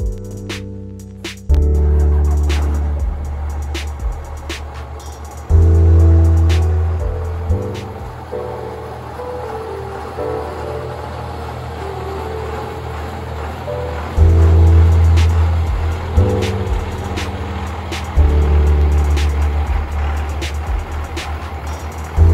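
A second-generation Cummins diesel truck backs into a shop, its deep, loud engine rumble swelling in several heavy surges of throttle between steadier idling stretches.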